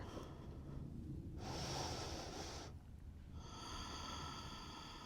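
A deep breath drawn in and let out during a yoga neck stretch with the chin tucked, close and airy, a long inhale followed by a slower exhale over a steady background hiss.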